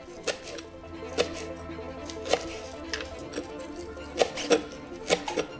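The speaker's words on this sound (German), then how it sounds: "Und jetzt wird die Petersilie gehackt." Parsley being chopped with a knife on a board while cooking spaghetti aglio e olio, sharp irregular chops and taps spaced across several seconds, close and fairly quiet.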